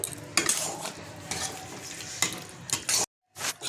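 Chilli fish simmering in gravy in a pan with julienned ginger, giving a close, steady bubbling sizzle broken by bursts of spoon stirring and scraping, with a brief silent gap near the end.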